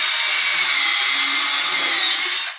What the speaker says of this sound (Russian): И теперь сверлю отверстие.